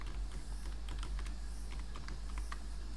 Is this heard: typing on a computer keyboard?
yes